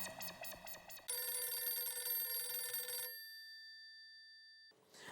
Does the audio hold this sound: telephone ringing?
yes